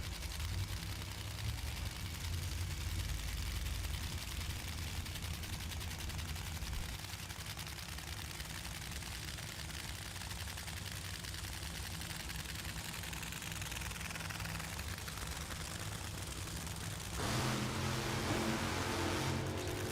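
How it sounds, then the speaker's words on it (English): Top Fuel Funny Car engines fire up for qualifying, with a small squirt of gasoline in the injector to start them: a loud, continuous, broadband roar held throughout, swelling harsher near the end. "Fire them up, a little squirt of gasoline inside the injector, pull the mag wires off, and away we go with Funny Car Qualifying."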